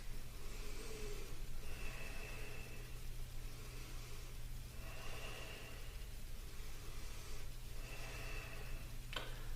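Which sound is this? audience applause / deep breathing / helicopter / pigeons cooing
deep breathing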